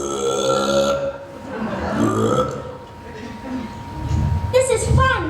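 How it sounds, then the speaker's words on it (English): A performer in a school stage production of Willy Wonka Jr. lets out a long, exaggerated burp over music, with singing voices around it. "burp!"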